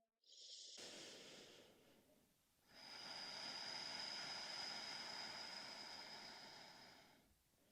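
A slow, deep breath during a yoga flow: a brief inhale, a short pause, then a long, steady, airy exhale, heard close and alone.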